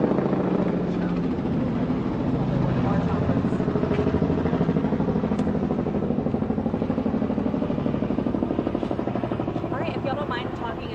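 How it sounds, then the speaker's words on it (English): A helicopter hovers nearby behind a group of people, its steady, loud rotor chop throbbing continuously throughout with faint voices mixed in. "I got a helicopter in the back."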